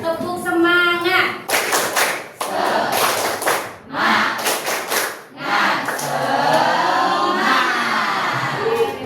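A classroom of students standing and doing a rhythmic spirit clap, bursts of loud unison clapping in patterned groups with chanting voices between them.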